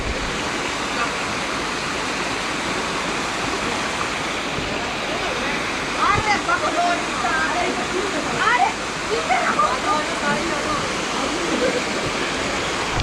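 A hidden waterfall near Rishikesh roars as a steady, dense rush of falling water that fills the scene. A voice speaks over it in a few short stretches.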